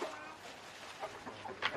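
A chicken clucking nearby in a quiet rural setting, giving a few short, faint clucks spread unevenly across the moment, with no voices heard.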